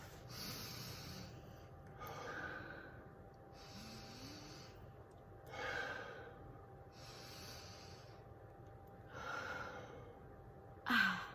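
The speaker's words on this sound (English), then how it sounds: "Let's all start off the video with taking 3 deep breaths." Three slow, deep breaths in and out, heard as soft airy rushes spaced a few seconds apart, close and quiet with no talking.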